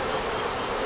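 Bees in a swarm trap give off a dense, even buzzing hiss close by, steady and unbroken, with no talking.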